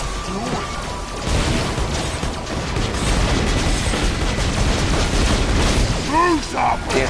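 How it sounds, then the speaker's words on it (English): A loud rumbling explosion in the video game Borderlands with a sustained crashing blast and lingering roar, close and dense, while voices briefly shout over it. "The explosion does a lot of damage."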